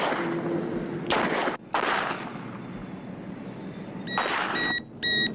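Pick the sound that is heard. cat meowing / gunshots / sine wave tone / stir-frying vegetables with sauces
gunshots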